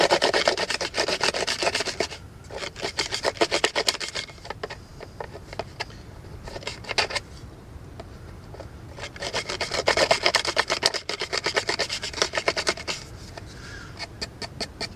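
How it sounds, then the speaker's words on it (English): A stone-pointed arrow spun as a drill grinds into a dry gourd in rapid, rasping bursts of scraping, close and fairly quiet, pausing between spells of twisting. "I'm going to use this arrow as a drill."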